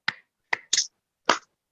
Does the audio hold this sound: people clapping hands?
yes